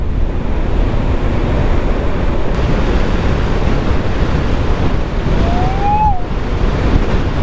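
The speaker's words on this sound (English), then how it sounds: "This is nice down by the sea." Sea waves wash onto the shore at Helmsdale beach on Scotland's north coast, a steady broadband rush of surf with wind buffeting the microphone throughout and a faint whistle-like tone briefly rising near the end.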